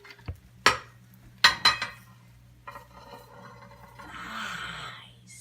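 Kitchen clatter as an omelette is slid onto a plate: a few sharp clinks of a pan and utensil against crockery, close and distinct, followed by a softer scraping rustle.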